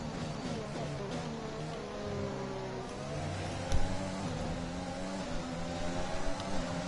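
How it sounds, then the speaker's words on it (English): A Formula 1 race car in the F1 2021 video game holds a steady, high engine whine while overtaking, with one brief thump partway through and no talk. "Time to overtake you, Russell."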